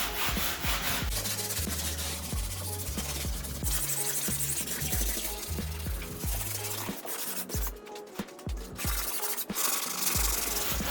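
A stiff brush scrubs steadily over the painted body of a 2004 Ford Thunderbird, giving a rough, continuous rasping rub with rhythmic back-and-forth strokes, close and loud throughout.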